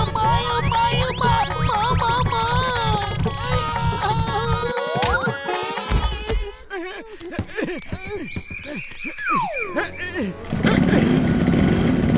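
A cartoon motorcycle engine starts and revs with sputtering, sliding pitch, mixed with music and cartoon sound effects, then a rough engine rumble rises near the end.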